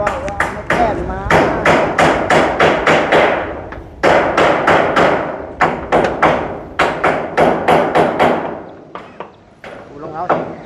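Hammer blows drive nails into aluminium-zinc roofing sheets, a rapid run of sharp, ringing metallic strikes in quick bursts with brief pauses, loud and close, while people talk faintly in the background.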